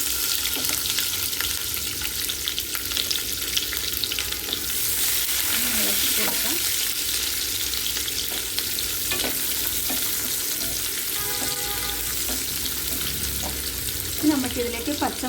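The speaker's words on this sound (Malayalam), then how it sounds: "അപ്പം ഇത് പൊട്ടിക്കഴിഞ്ഞപ്പോഴത്തേക്കും നമുക്കിതിലേക്ക് സവോള ഇട്ട് കൊടുക്കാം" Onions frying in hot oil for dal tadka give a constant, close crackling sizzle, broken by occasional spoon scrapes and stirring.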